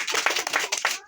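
Quick, dense clapping for quiz contestant Anshu on a Super 10 quiz show, a short burst of many hands together with a brief pause near the end.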